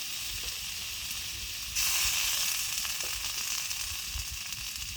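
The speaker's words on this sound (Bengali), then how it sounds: "চাপাটা খুলে নেড়ে চেড়ে জিরে আর গোলমরিচ বাটাটা দিয়ে দেবো।" Cumin and black pepper paste sizzles steadily in a hot pan while being stirred, the frying hiss jumping louder partway through as it is moved around, with no talking.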